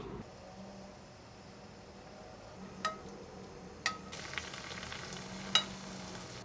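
Salmon simmers in a rice-bowl sauce sweetened with allulose, a faint steady low bubbling hiss with a few sharp clinks and taps of utensils against the pan.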